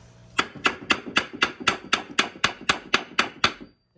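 A hammer strikes wood in a woodworking session, about a dozen sharp, evenly spaced blows in a steady rhythm, close and loud, with no talk.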